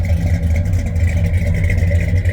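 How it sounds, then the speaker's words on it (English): A 1964 Chevrolet Impala convertible engine running steadily, a low, even rumble that stays constant and close with no talk over it. "Nice sounding car, you hear"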